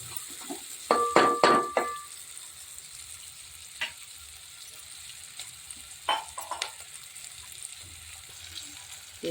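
Capsicum and carrot curry fries in a pan, a soft steady sizzle broken by clattering bursts of stirring early on and again later, close and moderately loud.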